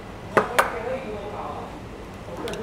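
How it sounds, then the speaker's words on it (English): Two sharp taps of eggs cracked against a bowl rim while preparing a Hainanese steamboat soup base, quick and close, followed by soft handling noise in a quiet kitchen. "what I'm going to do is to crack the eggs first lah"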